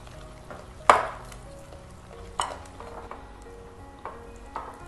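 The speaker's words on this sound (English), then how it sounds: "Now I'm going to mix the maida with the yogurt." Maida flour being mixed into yogurt for rose cake batter: a few quiet clinks of a utensil against a bowl, one sharper knock near the start, with soft stirring scrapes between and no talking.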